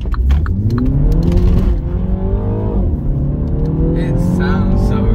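A Mini Cooper S engine revs up hard and roars continuously as it accelerates, loud and close, with the pitch climbing through gear changes.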